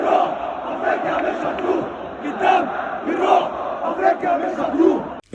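Al Ahly football fans in a stadium roar in a dense, continuous crowd chant, rising and falling in rhythmic waves of massed voices.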